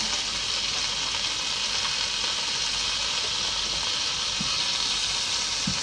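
French toast frying in butter in a pan, a steady close sizzle and hiss that runs evenly throughout with a couple of brief louder pops, no voices.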